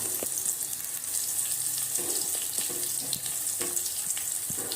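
Steady broadband sizzle of curry leaves frying in hot oil, with a few soft clinks and scrapes, close and continuous with no voices.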